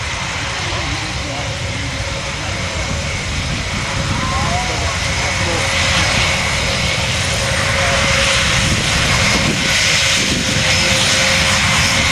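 RAF formation aircraft flying past at the Royal International Air Tattoo 2012 make a loud, steady broadband engine roar that holds throughout, with no break or lull.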